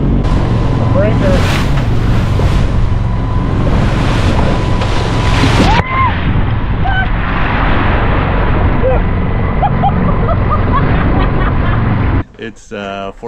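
Waves break and wash around a sailboat motoring up Delaware Bay against the wind. Loud, continuous rushing water mixes with heavy wind buffeting, and there is a sharp clattering handling noise at the very end.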